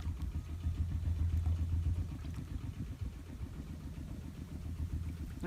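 A farm tractor engine runs nearby with a steady low, chugging rumble and a regular pulsing rhythm, holding at a moderate, even level throughout.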